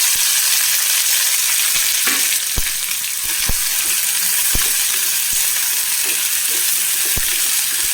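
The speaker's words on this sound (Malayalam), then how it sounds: "ചെറിയുള്ളിയും വേപ്പലയും ചതച്ചത് കൊടുക്കാം" Crushed shallots and curry leaves fry in a hot pan, giving a steady loud sizzle with a few sharp clicks and taps from stirring scattered across it.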